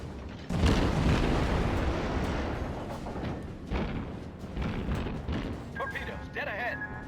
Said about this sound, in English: Those high explosive shots are going to do a lot of damage to him.